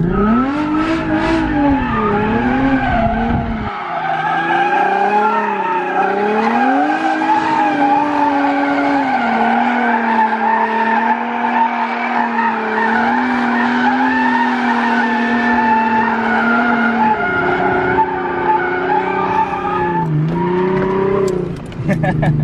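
Car tires skid and squeal continuously at a junkyard, a loud sustained wail that wavers in pitch as the engine revs along with it, and voices can be heard over the noise.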